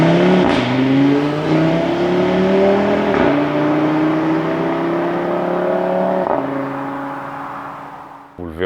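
An Audi RS3 with an RS Audi Sport exhaust revs loudly, the engine pitch climbing in long pulls with brief drops between them, close and powerful.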